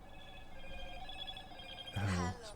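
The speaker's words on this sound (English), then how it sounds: "my fucking phone going bonkers" A mobile phone ringtone plays as a faint, steady tone for nearly two seconds, then a louder, brief burst of sound breaks in near the end.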